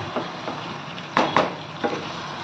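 Chicken stir-fried on high flame for a village-style dish: a steady sizzle under several scraping stirs of a spoon against the pan, close and fairly loud.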